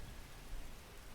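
Rain falls in a video game garden, a brief, faint, even patter of drops with a soft low rumble beneath it.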